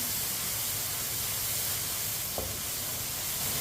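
Tomatoes cooking in a pan over a stove while being stirred with a spoon give a steady, soft sizzling hiss throughout, with one brief scrape of the spoon midway.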